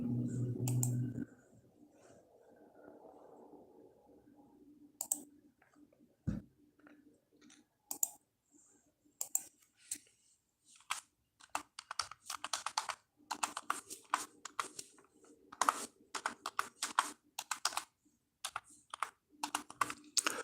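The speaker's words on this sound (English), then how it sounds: "I'm going to type that right now" Computer keyboard typing comes in irregular bursts of close, crisp key clicks with short pauses between runs, after a brief low hum at the start and a quiet room behind.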